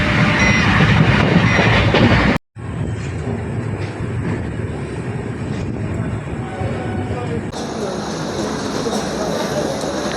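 A passenger train pulls into Bardhaman Junction with a loud, steady rumble and rolling wheel noise, broken by a brief cutout near the start before the heavy drone carries on.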